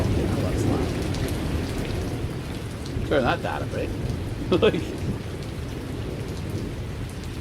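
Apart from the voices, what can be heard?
thunder clap and rain sound effect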